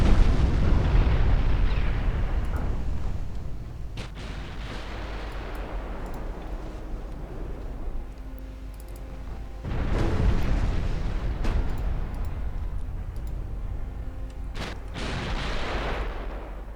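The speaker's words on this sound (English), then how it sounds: "my battle cruisers are taking a bit too much high explosive fire" Heavy booming naval high-explosive shell fire in the video game Ultimate Admiral Dreadnoughts, loud deep blasts opening the passage and recurring a few times with rumbling decay between them, no talk.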